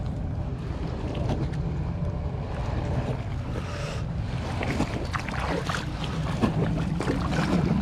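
Water from a passing boat's wake sloshes and laps steadily under constant wind buffeting the microphone, a broad rushing wash with no clear breaks and no talking.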